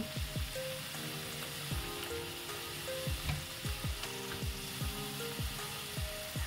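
Chicken soup ingredients for a restaurant-style veg chicken soup frying in a low-oil pan, a steady close sizzle broken by repeated scraping stirs of a spoon against the pan, no voices.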